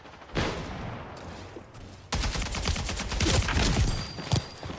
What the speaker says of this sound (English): I'm shooting at someone and I'm getting shot at by 2 different people.